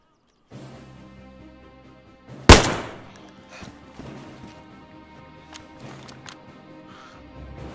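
Gunfire in the video game DayZ, a single sharp loud shot standing out once, followed by faint clatter and distant low sounds.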